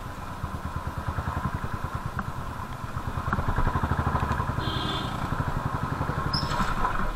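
A Royal Enfield Bullet motorcycle on the move, its single-cylinder engine thumping in a steady, close, loud rhythmic beat that rises slightly as it speeds up, with wind noise and no talk.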